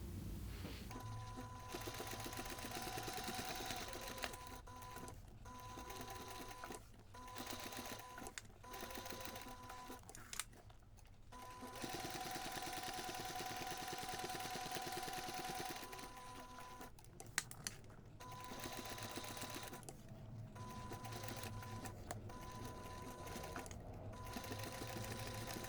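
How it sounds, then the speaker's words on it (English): A sewing machine top-stitches a fabric overlay onto a DIY backpack, running in long steady bursts with brief pauses between seams, close and continuous with no talking. "we're going to take this to the machine and we're going to top stitch the overlay around all sides"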